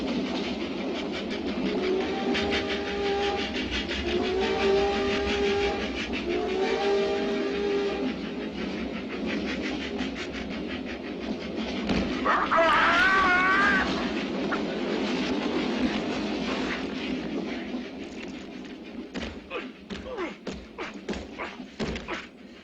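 Steady rumble of a train rolling on rails throughout, with rhythmic clacks and a brief high squeal midway; a cat meows faintly near the start.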